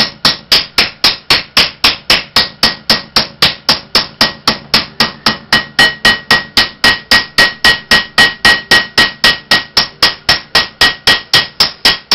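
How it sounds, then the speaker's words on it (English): Steady, evenly paced hammer blows ring out against iron in metalwork, loud and close, repeating dozens of times without pause. "You want to try and get a hammer mark pretty much covering all of the material there"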